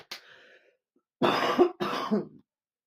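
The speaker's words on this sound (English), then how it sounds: "Every time I lean that way too much, sets my cough off, apparently" Two short bursts of coughing from a person, each lasting about half a second, close and fairly loud, preceded by a faint breathy throat sound.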